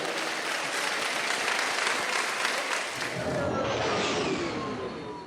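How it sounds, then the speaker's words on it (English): A fan-convention crowd applauds a lunchtime panel of Return of the Jedi guests with loud, dense, sustained clapping that fills the room, then slowly thins out. "Can we have a big round of applause for these guys?"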